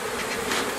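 Dense, loud buzzing of a mass of honeybees being shaken out of a box while requeening a hive, a continuous close swarm drone with no talking.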